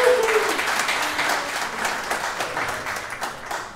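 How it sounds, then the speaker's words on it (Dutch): Applause from an audience at a comedy show in a care home, steady dense clapping filling the whole stretch, with a brief voice at the start. "Applaus voor Gode lieve."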